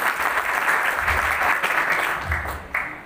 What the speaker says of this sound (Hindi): एक बार फिर ताली बजा करके